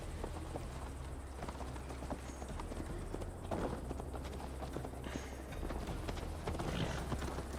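Horse riding in Assassin's Creed Valhalla on a long ride to Tamworth, steady clip-clop of hooves at a running pace over a low constant rumble, fairly faint and without talk.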